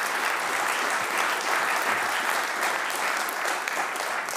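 An audience at a talk gives sustained applause, a dense, even wash of many hands clapping that stays steady for several seconds without a clear start or finish.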